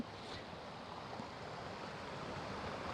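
Quiet, steady rush of rainwater flowing along a canal near Bahucharaji, Mehsana, Gujarat, heard from a distance, continuous with no voices.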